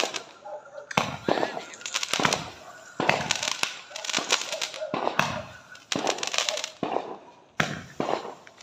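Fireworks burst all around a house at a New Year's Eve celebration, a series of loud sharp cracks and crackling explosions in irregular clusters, some close and some farther off.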